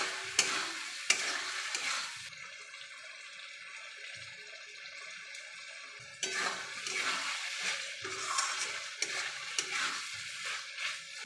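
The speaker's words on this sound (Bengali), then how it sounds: "এবার আমি খাসির চর্বিগুলো দিয়ে দেবো। এটার সাথে ভালো করে কষিয়ে নেব।" Goat fat frying in a pan while being stirred, a soft sizzle under scraping spoon strokes, with two louder bursts of frying and scraping separated by a quieter stretch.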